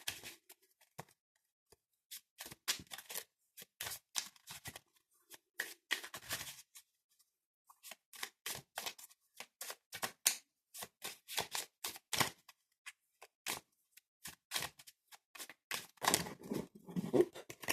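A deck of oracle cards being shuffled and drawn by hand, with crisp, rapid riffling and flicking in bursts, close and fairly soft, broken by short pauses.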